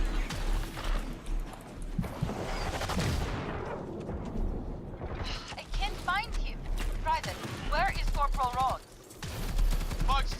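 Rapid bursts of gunfire from weapons shooting small bugs in the sci-fi shooter game Firefall, dense and continuous at first, then thinning into scattered shots mixed with chirpy electronic effects.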